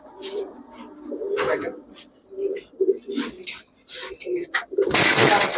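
Giribaz pigeons, a Bengali high-flyer breed, give low throaty coos in short bursts between a man's speech, with a louder rush of noise near the end.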